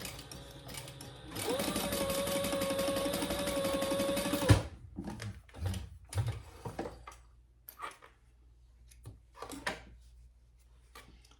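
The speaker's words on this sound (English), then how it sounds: "So now I'm just going to stitch these sides closed after I iron them." A sewing machine stitches the ironed sides of a fabric wallet closed in one steady, quick run of about three seconds, followed by soft handling clicks and rustles of the fabric.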